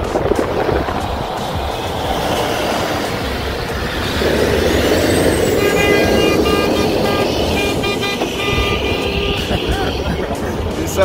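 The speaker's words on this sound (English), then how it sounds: "Semis are trying to get these guys out of here by driving and honking their horn." Semi trucks sound their horns in slow traffic, with steady multi-tone blasts rising midway over the rumble of passing vehicles, while people talk nearby.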